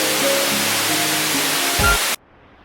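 Waterfall in misty hills of Idukki, a loud, steady roar of falling water filling the scene, close and unbroken before cutting off abruptly near the end.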